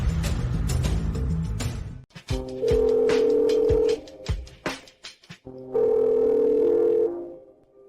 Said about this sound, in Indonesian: Sudah, telepon tidak diangkat.